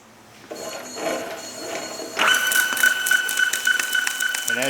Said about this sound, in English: Let's see if we can't get a print.